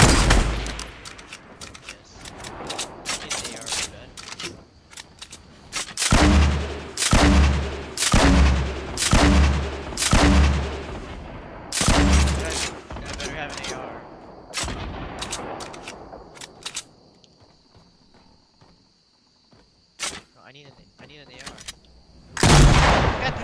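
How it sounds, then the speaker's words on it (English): Rapid bursts of gunfire in a video game, a regular string of loud, punchy shots in the first half, then scattered shots and quieter stretches, ending on another loud burst; a voice talks faintly at times. "Shots."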